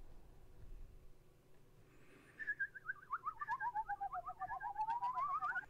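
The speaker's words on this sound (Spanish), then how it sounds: "¡Oh, lechuza!" An owl in the video game Symploke calls in a run of rapid, warbling hoots that grows louder and steadier over several seconds, standing alone over a quiet background.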